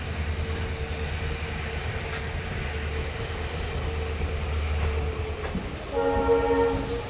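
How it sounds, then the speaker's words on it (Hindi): A Kolkata–Dibrugarh Express pulls out of Udalguri station with a steady low rumble of rolling stock. A sustained tonal horn joins near the end of the departure. "मुश्किल से 2-3 मिनट रुकने के बाद अभी अपनी ट्रेन निकल गई है उदलगुड़ी से"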